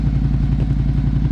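A motorcycle engine idles steadily with a light touch of throttle during a first riding lesson, producing a close, continuous low putter with a faint mechanical clatter and no voices.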